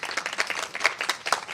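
A group of young voters in Bhilwara, Rajasthan, claps in steady, dense applause at close range, a brief welcoming burst with no talk over it.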